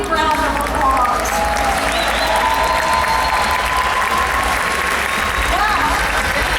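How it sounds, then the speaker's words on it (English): A big round of applause from an audience at a community bike donation event in a store, loud and sustained with a constant wash of many clapping hands and faint cheering voices underneath. "Let's give them a big round of applause."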